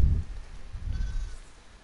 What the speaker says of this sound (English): Listen up, sheep. Your dinner awaits you in the barn, so come on.